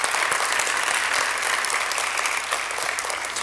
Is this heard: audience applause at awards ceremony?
yes